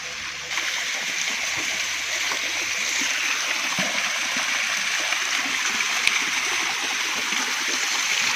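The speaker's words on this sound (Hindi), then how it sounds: "ऊपर से पानी आ रहा है नीचे।" Steady rushing of a waterfall beside Jammu Road in Pona valley, a broad continuous roar of falling water with splashing into a deep pool, constant and fairly close throughout.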